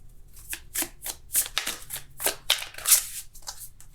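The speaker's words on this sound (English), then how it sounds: "It's quite a lot of cards that wanted to come out, but we're going to just shuffle just for one" Oracle cards being shuffled by hand, a quick series of crisp riffling and slapping bursts with short pauses between them, close and clear with no voices.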